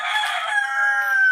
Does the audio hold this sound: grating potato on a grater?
no